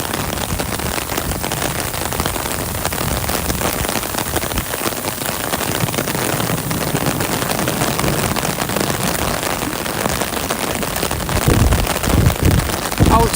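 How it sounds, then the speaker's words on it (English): Heavy rain pours steadily throughout an outdoor cricket match between Bangladesch Cricket Club Berlin and Mavens Sporting Club, a loud, dense, continuous hiss with no break, swelling slightly toward the end. "The rain is really heavy now, which is"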